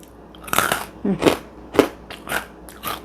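Crisp crunchy bites and chewing crackles of a fried fish-ball snack (basreng) repeat about five times in an irregular rhythm, close to the mouth, with no talking.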